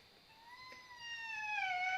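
A voice imitates a cat meowing to call its kitten, one long drawn-out tonal meow that swells gradually and bends downward at the end, heard fairly softly.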